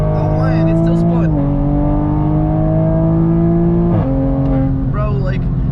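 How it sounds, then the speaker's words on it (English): A Toyota Supra MK5 with traction control off pulls hard at full throttle from about 60 mph, its engine droning loud and close with steady rising tones broken by quick gear-change dips. "We're gonna get to 60 miles an hour and foot to the floor."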